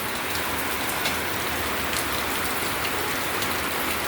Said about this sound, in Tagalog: Ay, ulan.